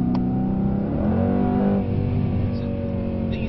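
A car engine revs and pulls steadily, the pitch climbing then holding as it accelerates, loud and close with a faint voice underneath.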